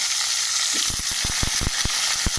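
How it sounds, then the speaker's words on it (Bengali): Potatoes fry in oil with cumin seeds in a pan, a close, continuous sizzle broken by a run of sharp knocks and scrapes as a spatula turns them; no talking. "আলুগুলো আমি লাল লাল করে ভাজবো।"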